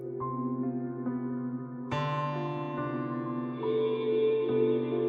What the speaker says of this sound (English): So you can hear we've got that pre-delay on there